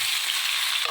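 Close, bright sizzling of chopped tomatoes frying in hot oil in a pan, a continuous crackling hiss for a brief moment.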